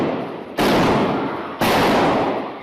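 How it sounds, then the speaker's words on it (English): Two gunshots ring out inside a Texas church during a Sunday morning service, each a sudden loud crack followed by a long reverberant decay, about a second apart, with no voices. "The gunshots sparking panic in the pews"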